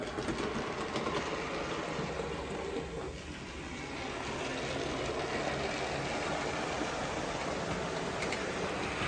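A locomotive running light engine up a hill, a low steady rumble and mechanical drone at moderate distance, continuous and fairly quiet with no talking.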